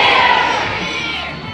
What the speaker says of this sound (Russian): Под громкие овации лечебный факультет получает первое место в конкурсе.